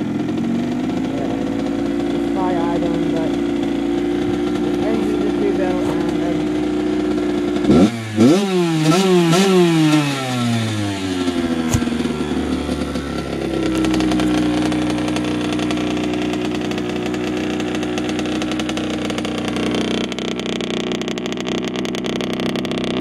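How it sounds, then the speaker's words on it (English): A 2004 Kawasaki KX85 dirt bike engine idles steadily and close, then revs sharply in a series of rising and falling bursts before settling back to a rough idle. "I know I have to adjust the idle a little bit, but"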